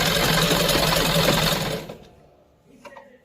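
Sewing machine stitching a salwar, a loud rapid mechanical whirr running steadily up close before stopping abruptly, followed by a few faint clicks and handling noises.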